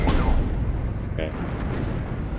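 Bombs dropped by bombers in the Steel Division 2 war game exploding together, a loud sharp blast opening into a rumbling roar that fades over a couple of seconds.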